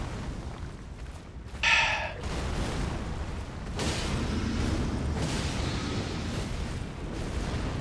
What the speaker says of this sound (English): We don't look at explosions.